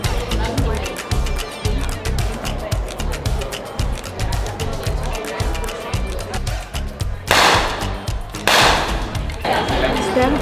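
Rifle blanks fired during women's army boot camp training, with rapid cracking shots amid busy background noise and two loud, sharp bursts near the end.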